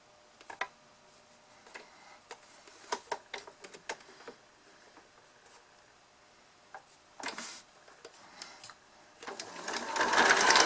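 Sewing machine back-stitching over elastic on a fabric face mask, short close bursts of rapid mechanical ticking and clatter with pauses, ending in a louder sustained run.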